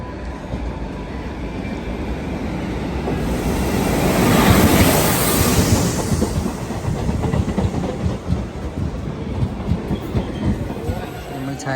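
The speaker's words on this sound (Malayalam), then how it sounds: "ട്രെയിനാണ് വരുന്നത് കേട്ടോ." A train arriving at a station on the Nilambur line, its rumble swelling to a loud pass around the middle and settling into a rhythmic clatter of wheels as it slows, with no voices over it.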